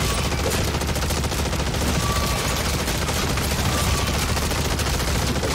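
Sustained automatic gunfire in Call of Duty MW3 Zombies, loud and unbroken across the whole stretch, with dense rapid shots blending into a steady roar.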